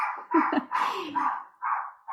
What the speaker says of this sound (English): Can you guys hear my dogs?